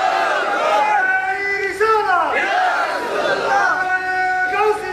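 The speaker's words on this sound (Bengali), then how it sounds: "জোরে একটা তাকবীর দেন না আর একটা তাকবীর" A large crowd at a Bangla religious sermon gathering shouts a loud takbir chant together, sustained massed voices rising and falling in waves for several seconds.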